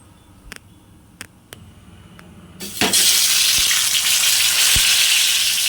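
Food drops into well-heated oil in a kadai for a fish fry. A few sharp clicks come first, then a loud, steady sizzle suddenly bursts up and carries on close by to the end.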